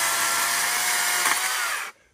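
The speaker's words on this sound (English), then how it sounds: "got his electric chainsaw" An electric chainsaw cuts through a chinaberry tree in close quarters, a loud high whine that holds steady for about two seconds, then abruptly stops.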